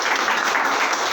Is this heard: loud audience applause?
yes